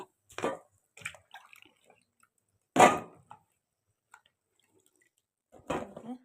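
Liquid from a raw mango pickle drips as it is strained, a few sparse, faint drops and small splashes spaced irregularly across near silence.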